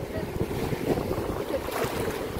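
Sea waves wash along the Konkan coast at Harihareshwar, a rough, rolling surge mixed with heavy wind buffeting for a brief stretch.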